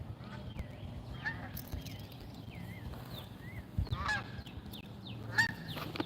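Geese honk repeatedly at a distance on a shore fishing outing, the calls rising in short bursts over a constant low rumble, with a person's voice breaking in at points and the wingbeats too faint to pick out.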